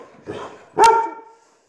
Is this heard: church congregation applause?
no